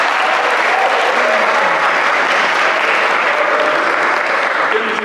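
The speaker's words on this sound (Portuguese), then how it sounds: "Palmas para o Saúl" Steady applause from a concert audience for a glockenspiel and tamborim player after an orchestral dance piece, even and sustained throughout with no break.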